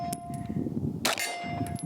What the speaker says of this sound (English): now I'm gonna shoot that C-zone steel